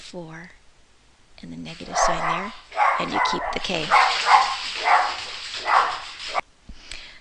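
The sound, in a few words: pet dog barking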